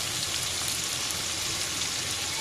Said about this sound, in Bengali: পেঁয়াজ ভেজে নিচ্ছি কারণ আমরা সবজি তৈরি করব